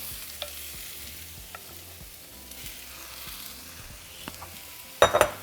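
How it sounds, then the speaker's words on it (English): Homemade Mexican chorizo fries in a pan with potatoes and vegetables, giving a soft, steady sizzle with faint stirring scrapes and a sharp clatter of pan or utensil near the end, close up and with no voices. "after 5 minutes, we're going to add our chorizo"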